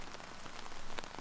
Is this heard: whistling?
no